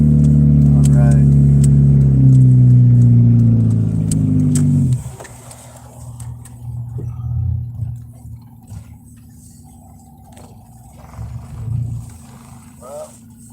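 A car engine roars and revs loudly for about five seconds up close, then settles into a low, steady idle rumble with a few quieter swells until the end.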